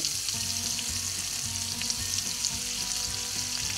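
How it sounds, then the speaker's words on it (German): An onion frying in hot clarified butter in a pan, dusted with flour, giving a steady, close, dense sizzle with crackling throughout and no talking. "Da rein gebe ich nun unsere Zwiebel"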